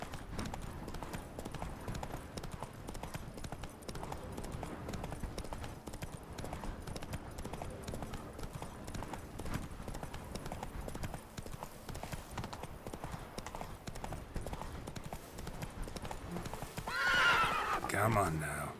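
Roach the horse in The Witcher 3: Blood and Wine gallops with steady, continuous hoofbeats throughout, then whinnies loudly near the end; a voice speaks over it.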